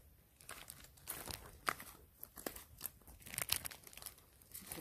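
A monkey at a monkey village in Hua Hin, Thailand, rips and crinkles a plastic bag close up, with irregular bursts of tearing and rustling crackle.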